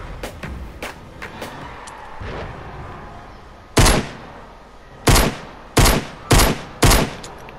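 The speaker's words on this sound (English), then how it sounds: "Going for a few random shots" Gunshots in the video game Fortnite: a few faint distant pops, then five loud, booming shots spaced roughly a second apart, each with a short decaying tail.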